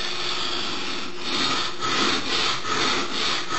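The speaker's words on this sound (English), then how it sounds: "You can hear grinding sound." A steel blade grinds back and forth on a bench sharpening stone, giving a continuous abrasive rasp that swells in even strokes, close and steady, with no voices.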